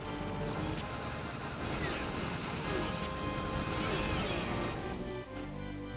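Strong shot attack in the Dreamcast arcade shooter Cannon Spike: a dense, continuous wall of loud blasts and crashing impacts with layered game music, sustained for the whole stretch.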